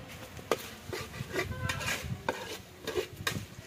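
Onion, tomato and ginger garlic paste sauté in a pan for a quail gravy. A spatula stirs with repeated metallic scrapes and taps over a soft, low sizzle.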